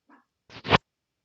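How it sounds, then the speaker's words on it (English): Dog giving a faint short yelp followed by a louder quick double bark, brief and close indoors. "my dog is going crazy"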